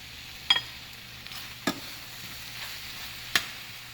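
Tomatoes stir-fry in a hot pan for pollo saltado, three sharp scraping strokes of a spatula over a quiet, steady sizzle, close up and with no talking.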